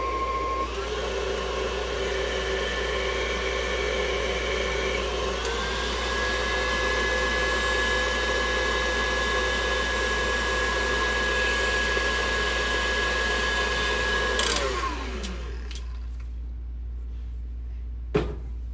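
An electric mixer beating cake batter at higher speed whirs loud and close in a steady motor drone, its pitch stepping up partway through before it winds down and stops near the end, with no talking.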